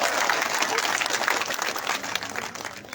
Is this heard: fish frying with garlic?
no